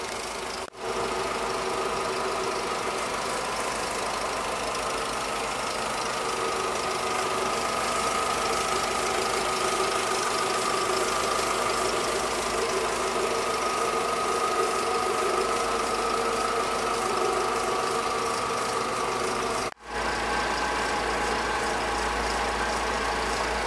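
VW Voyage G6 engine idling smoothly after repairs for misfiring, a burnt head gasket between cylinders and a destroyed catalytic converter, a steady even hum close by with no pauses.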